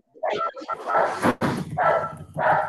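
A dog barks at someone passing in the street outside, a few loud, close yaps mixed in with ongoing talk during a chemistry lesson.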